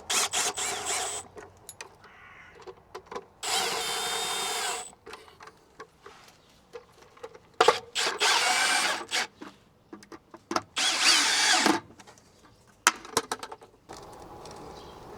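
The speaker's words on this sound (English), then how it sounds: "secure the front cover onto the back box using a torque setting on my M12 combi drill" An M12 combi drill on a torque setting drives screws to fasten the front cover of an outdoor garden socket onto its back box, in several short, close whirring bursts separated by quiet handling clicks.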